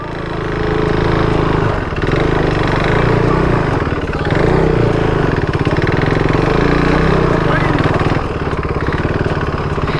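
A motorbike ridden off-road on a rough, muddy track, its engine droning loud and steady throughout with slight dips in revs, close by and with no talk over it.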